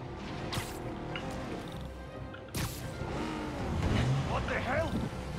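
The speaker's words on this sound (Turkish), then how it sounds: "Yine bir araba kovalama." Car chase in Marvel's Spider-Man Remastered: a vehicle engine roars and shifts under music and game effects, with a sharp burst partway through and talk running over much of it.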